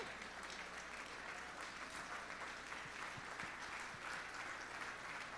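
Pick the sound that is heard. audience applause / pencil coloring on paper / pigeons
audience applause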